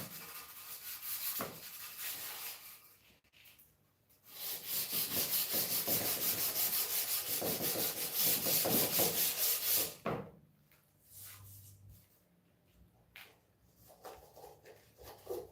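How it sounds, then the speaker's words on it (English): Sandpaper rubbing over rusty metal, a rough scratchy rasp in quick repeated strokes, building to a sustained loud stretch of sanding before fading into quieter intermittent scrapes. "Found some sanding paper."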